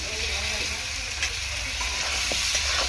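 Potatoes fry in hot oil in a pan for a katla fish curry with tomato, a continuous close, steady sizzling hiss with a few faint clinks.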